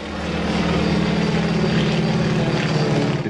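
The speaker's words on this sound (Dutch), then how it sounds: "Dit is een gyrocopter, een toestel met een achterwaarts geplaatste schroef." A gyrocopter with a rear-mounted pusher propeller flies overhead at an airshow, its engine and propeller giving a loud, steady droning buzz that swells and fades slightly across the pass.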